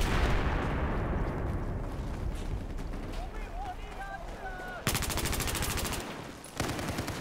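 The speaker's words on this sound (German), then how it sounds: "Boah, ich werde beschossen." Gunfire in the multiplayer shooter Battlefield 4, rapid bursts and booming shots layered with game effects, ending in a loud buzzing automatic burst, while a German-speaking player talks over it.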